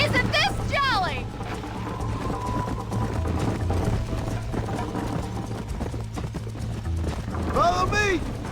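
Horse hooves clip-clop in the video game Red Dead Redemption, a steady galloping rhythm under continuous game music, with a horse whinnying near the start and again near the end.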